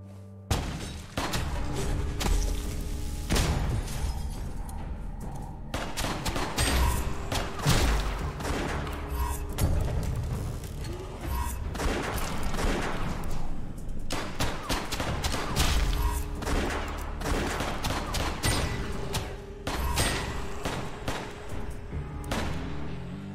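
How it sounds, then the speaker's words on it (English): Heavy shotgun blasts and booming gunfire in the video game West of Dead, during a boss fight against an enemy with a big shotgun, repeating in dense, loud volleys throughout. "He has a big shotgun."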